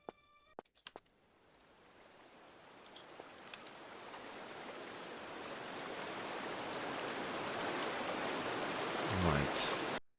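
Waterfall roaring in Tomb Raider III, a broad rushing wash of falling water that grows steadily louder as it nears, with a few small game clicks at the start and a brief thump before it cuts off.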